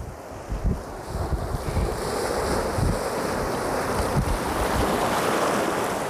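Sea surf and churning white water break on the Cornish coast, a broad continuous roar with low thumps of waves and heavy wind buffeting on the microphone.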